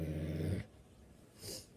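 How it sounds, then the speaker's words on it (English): Low, rumbling dog growl held steadily for about half a second, then dropping away to a quiet background with a faint hiss, set in a Jurassic Park themed game. "Hey, relax. Don't growl at me."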